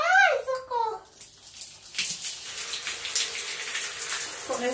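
Hot water runs from a tap over wet hands on a cold day, a steady hiss and splash that follows a brief voice at the start and continues close up.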